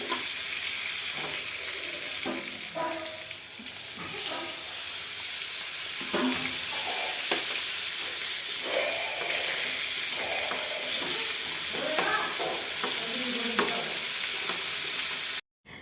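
Eggplant slices frying in oil in a Bengali home kitchen, giving a loud, continuous hissing sizzle with intermittent scraping and clattering as pieces are moved, close up and unbroken until it cuts off at the end.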